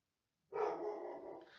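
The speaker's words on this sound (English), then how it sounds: "Why is my dog barking?" An indoor house dog gives one drawn-out bark that fades into a rough, growly tail, fairly close, with a moment of silence before it and no talking.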